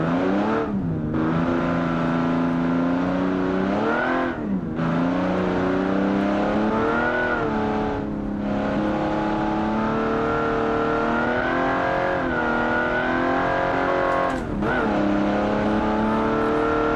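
A British car in the Automation racing game drives a test track time trial, its engine droning steadily and loud, with pitch rising through each gear and dropping at every shift across several gear changes.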